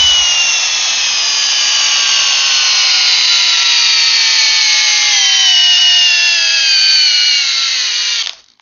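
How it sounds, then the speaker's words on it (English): A Milwaukee 2804 Gen 3 hammer drill on a fully charged 6-amp-hour battery runs steadily at high speed, a loud continuous whine that slowly drops in pitch under load before cutting off near the end, with no talk. "The Milwaukee 2804, this is the Gen 3 hammer drill."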